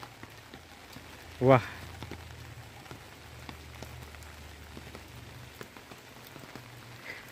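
Steady rain patters softly on surfaces outside a temple near the Vyaghreshwar waterfall in Sindhudurg amid mist, a faint continuous hiss with a brief spoken exclamation over it.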